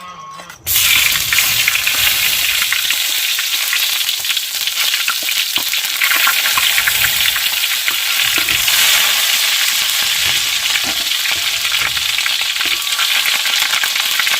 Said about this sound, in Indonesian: Pertama kita tuang minyak dulu barang 10 sendok makan. Kita tumis dulu bawang merahnya.